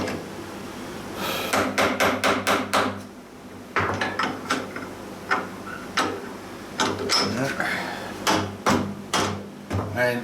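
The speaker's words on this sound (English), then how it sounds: "I'm hitting it with a rubber hammer." A rubber hammer strikes metal clamped in a vise, giving sharp separate knocks in quick clusters of several blows with short pauses between them, close and fairly loud.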